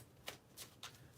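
A deck of cards is shuffled in three quick riffling bursts, close and crisp, with brief quiet gaps between them and no talking.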